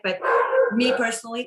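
A dog barks and whimpers in the background of a remote meeting on autonomous vehicles, its yips overlapping someone talking close to the microphone.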